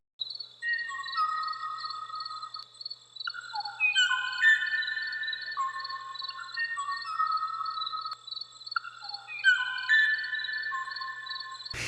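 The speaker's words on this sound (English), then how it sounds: "he recorded images and audio of the rare bird, sounds that were likely a mating call" A rare Kauai'o'o, the Hawaiian songbird recorded in 1987, gives what is likely a mating call: clear whistled notes repeated in short phrases over a steady high tone, close and isolated.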